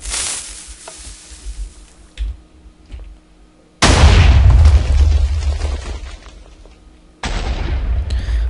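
Blocky TNT cannon blasts in Minecraft, fired as a top-down launcher: three loud booming bursts, each followed by a crackling, sizzling decay, with the middle blast the heaviest and longest.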